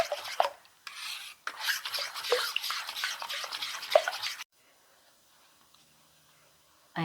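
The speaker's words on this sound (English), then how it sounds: "I mix the egg really good" Eggs being beaten with soy sauce for oven-baked eggs, a fast scraping, rubbing whisk against the bowl in bursts for about four seconds, close and fairly loud, then near silence.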